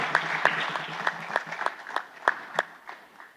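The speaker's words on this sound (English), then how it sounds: "Big round of applause, ladies and gentlemen." A small audience at an economic dialogue session claps in sparse, distinct hand claps, a handful of separate sharp claps rather than a full ovation, fairly quiet and spread over a few seconds.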